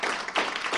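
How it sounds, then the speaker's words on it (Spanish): A short burst of audience applause for a presenter at a medical conference, a dense, close wash of many hands clapping that holds steady throughout. "un aplauso para Jorge"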